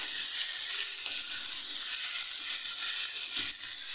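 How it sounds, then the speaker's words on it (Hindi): Fenugreek (methi) leaves roast in a pan over a low flame, giving a steady, close frying sizzle with a soft hiss that runs unbroken throughout. "इसे भून लेंगे 2 मिनट के लिए लो फ्लेम पे, ताकि इसका कड़वापन जो होता है मेथी का वो खत्म हो जाए"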